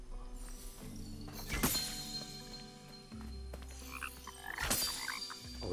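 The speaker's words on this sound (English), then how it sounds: "Oh, look at that frog" A frog in the game Kena: Bridge of Spirits croaks a few times in short, hollow bursts, moderately loud over a soft ambient background with no talk.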